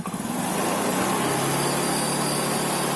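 A motorcycle engine revving up to high RPM during a charging regulator test, a loud buzzing engine note that climbs in the first half second and then holds steady and close.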